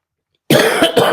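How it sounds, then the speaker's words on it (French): A single sharp cough breaks out of silence, close and loud, with a second rough burst right after. "je pense que je risque de tousser un petit peu"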